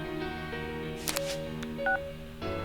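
Keypad tones beep in quick succession as a flip phone is dialed in the Persona 4 Golden video game, short electronic pitches stepping one after another over a soft musical background.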